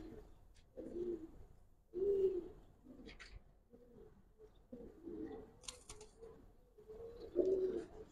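Giribaz pigeons cooing close by, a series of soft, low throaty coos in short bursts with brief pauses between them, with faint rustling and a few sharp clicks in the background.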